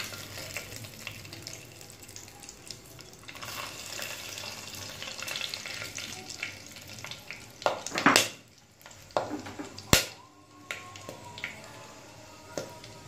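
Whole garam masala spices frying in hot oil, with a low continuous sizzle and several sharp crackles and pops, a couple of them louder, standing out near the end.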